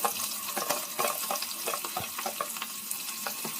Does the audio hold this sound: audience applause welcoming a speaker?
no